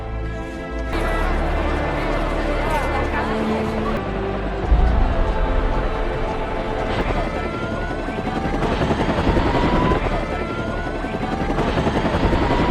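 A helicopter roars loudly and continuously nearby, its rotor drone steady throughout, with a sharp thud partway through and busy background commotion.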